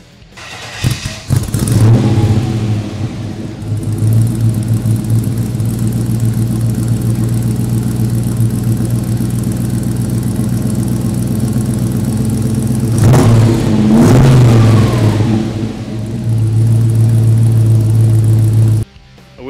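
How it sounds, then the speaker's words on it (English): A 1957 Chevy truck engine fires up through its exhaust pipes, then settles into a loud, close, steady idle and throws a couple of rising revs near the end before it cuts off. "You going to fire it up for us when you hear these pipes?"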